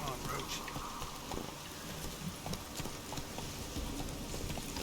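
Hooves of Roach, Geralt's horse in The Witcher 3: Wild Hunt, clip-clop at a steady trot through a busy outdoor ambience, while someone talks over the rhythmic footfalls.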